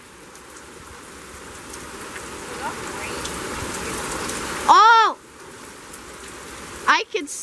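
Heavy rain pours down in gusty wind during a lightning storm, a steady, close hiss of drops on surfaces with a person briefly exclaiming twice.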